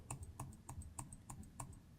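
A computer keyboard's arrow key is tapped repeatedly in a quick, even rhythm, about seven crisp clicks in two seconds, close and quiet in a silent room.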